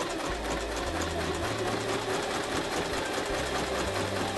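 A Kreshay sewing machine runs a zigzag stitch, giving a steady, rapid mechanical whirring and ticking close up that continues without pause.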